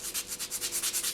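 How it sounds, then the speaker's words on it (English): Rhythmic back-and-forth sanding of a rough polymer clay edge on earring pieces, about ten even strokes in quick succession, close and fairly quiet with no voices. "just sanding down that rough edge."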